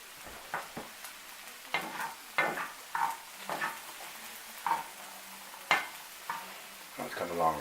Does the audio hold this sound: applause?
no